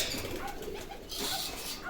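Soft pigeon cooing close by in İzmit, low throaty burbling calls repeating over a faint background rustle.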